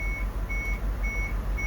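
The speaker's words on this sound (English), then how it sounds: "See, that's the low air warning." The low air pressure warning alarm on a bus sounds during an air brake test as a steady series of shrill electronic beeps, about four evenly spaced pulses, over a loud idling engine rumble.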